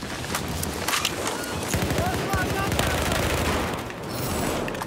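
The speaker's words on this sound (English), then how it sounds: "F2000 is putting shots on target" An F2000 rifle fires in the video game Battlefield 4, producing dense, rapid automatic bursts that run almost continuously amid a busy, loud battlefield mix.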